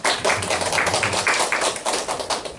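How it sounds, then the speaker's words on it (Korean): Congregation in a church applauding in thanks for visiting guests, dense sustained clapping from many hands filling the room for the whole stretch, fairly loud with no speech. "감사의 박수 한번 하겠습니다"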